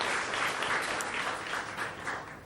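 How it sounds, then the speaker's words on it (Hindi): Audience at an awards ceremony applauds in a steady, dense wash of clapping that fills the room, fairly loud and continuous with no voices over it. "और एक बार फिर तालियों से हम इनका धन्यवाद करेंगे।"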